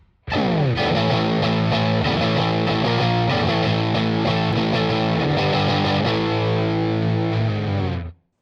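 An electric guitar through a Special Cranker overdrive pedal rings out in sustained, gritty chords with a crunchy, amp-like overdriven tone, played alone and loud for about eight seconds before stopping.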